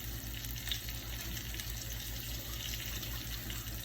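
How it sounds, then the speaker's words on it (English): Tap water running steadily into a sink while a hand is rinsed in a home kitchen, a continuous close splashing rush with a low hum underneath. "I need to rinse my hand off real quick"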